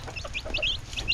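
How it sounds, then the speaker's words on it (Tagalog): Hens cluck in a pen on a Filipino farm, a rapid series of short, nasal clucks, fairly close, over a steady low background rumble. "Tapos po meron pa tayo dito inahin."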